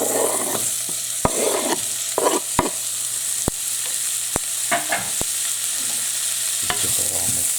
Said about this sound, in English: I'm going to go ahead and add the onions.